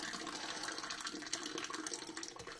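Water poured from high up splashes into a coffee pot, a dense, continuous rushing gush filling the pot steadily, heard close and alone with no talking.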